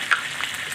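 Potatoes frying in a pan with salt and turmeric, giving a soft, steady sizzle with a brief brighter crackle near the start, fairly quiet and close, no voices.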